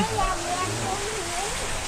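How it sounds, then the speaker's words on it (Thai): Steady rushing water from an artificial garden waterfall pours continuously, a broad even wash of noise with people talking over it. "มีการสร้างน้ำตกจำลอง"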